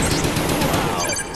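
Zeus cannon fire in the zombie game Kino Der Toten, a dense, continuous barrage of loud gunfire-like blasts filling the whole moment without pause.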